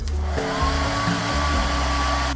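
A hair dryer blows steadily and loudly from start to finish, a constant whooshing roar with a faint high whine.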